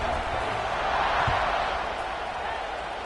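Penn State football stadium crowd before a kickoff, a broad distant roar and murmur of many voices that holds steady throughout, with a commentator talking over it.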